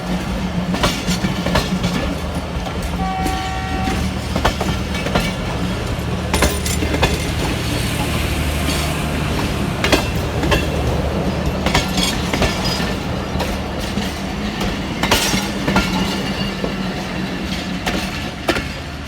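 A fast train pulls away past a station near Jhelum, Pakistan. A loud, close, continuous rumble with rhythmic wheel clatter runs throughout, and a brief horn-like tone sounds early on.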